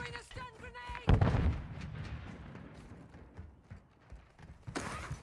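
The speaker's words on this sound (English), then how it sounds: "Throwing a stun grenade!" A stun grenade goes off in a video game with one sudden loud boom about a second in, fading into a rumbling tail. Faint game sounds continue around it.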